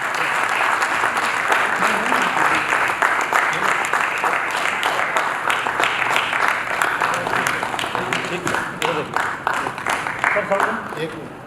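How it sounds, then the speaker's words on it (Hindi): Sustained loud audience applause at a cooperative-sector book launch event in India, dense steady clapping from a large crowd throughout, fading slightly toward the end. "हम सभी जोरदार तालियों से उसमें अपनी सहभागिता दर्ज करें"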